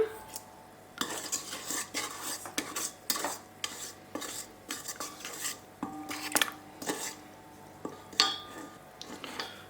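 A spoon scrapes and clinks against a bowl as dough ingredients with sugar and salt are stirred together for homemade bread rolls, giving repeated close, uneven knocks and scrapes with no talking.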